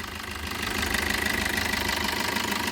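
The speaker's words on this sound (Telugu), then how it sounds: "ఇంజన్ సౌండ్ మాత్రం ఇట్లా ఉంది సార్" A 2019 Maruti Suzuki Brezza VDI diesel engine idles steadily nearby with a rough, knocking rumble and no voices.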